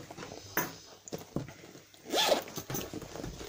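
A zipper on an English Cream+Extra handbag is pulled open, a loud rasping zip close by that is preceded by light handling rustles and taps, with no voices.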